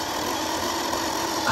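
Tamiya King Hauler RC truck spinning its wheels off-road in the evening, a steady whirring electric motor drone with a high whine, continuous and close, no talking.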